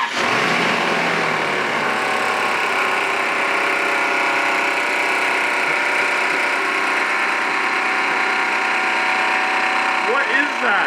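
A Range Rover engine, just refitted with its factory airbox, catches and settles into a steady, loud idle with a droning, even hum that runs without a break for about ten seconds.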